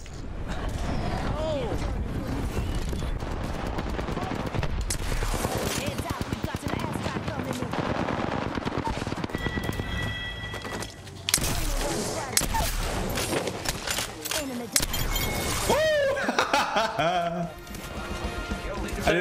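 Peacekeeper shotgun fire rings out in Apex Legends gameplay, sharp booming blasts scattered among clattering game effects and busy action sounds, with excited voices talking over much of it.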